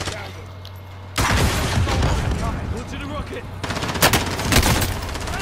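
Automatic gunfire erupts in a video game shootout, loud rapid bursts starting suddenly after a quiet second and returning in a second volley, with someone speaking over the shots.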